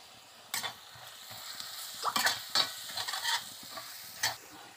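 Beef brain fry cooks with chili and coriander powder as a spoon stirs it, with irregular scraping bursts and clatter over a continuous sizzle, close by and without talk.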